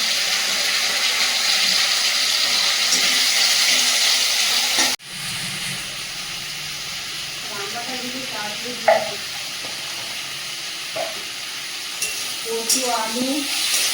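Fish heads fry in hot oil with a dense, steady sizzle that cuts off abruptly after about five seconds, then a quieter sizzle continues beneath faint voices.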